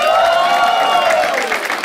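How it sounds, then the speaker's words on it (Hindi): Stand-up comedy audience applauding themselves, a loud mix of clapping and cheering voices that rises in a brief whoop and stays dense through the short burst. "क्या आप लोग अपने लिए ताली बजा सकते हैं?"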